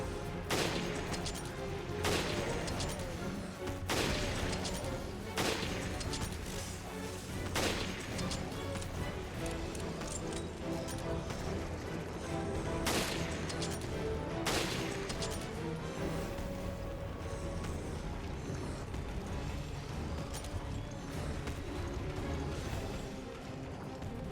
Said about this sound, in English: Jessica is one of the characters that has rapid-fire rifle skills, which, as you can see, comes in handy for these moving targets